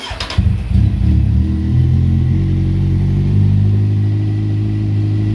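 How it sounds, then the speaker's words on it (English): A 2008 Kawasaki Z1000 streetfighter motorcycle engine: a quick starter crank catches into a loud close start, followed by a rising rev and then a steady, throbbing idle. "I think we got to start the bike up again."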